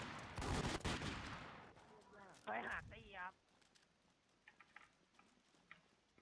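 A quick flurry of video-game gunfire in WarZ crackles at the start, followed by a short burst of a voice and then a few faint, scattered clicks.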